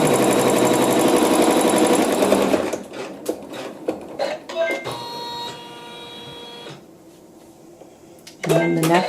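A sewing machine tacks down wash away thread with a loud, fast mechanical run that stops abruptly, followed by scattered clicks and handling noises before a brief restart near the end.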